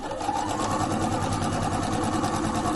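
A sewing machine stitches around a lapped fabric circle with a fast, steady mechanical whir and rapid needle chatter, close up and continuous with no pauses.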